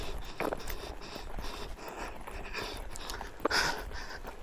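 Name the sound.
dog panting on bed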